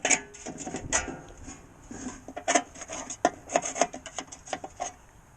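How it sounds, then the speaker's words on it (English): A knife scraping dried drywall compound off a drywall pan and tools, close rough rasping strokes in an irregular rhythm with scratchy bursts and small clicks, no voices. "if you don't clean your tools right away, now you got to scrape your tools"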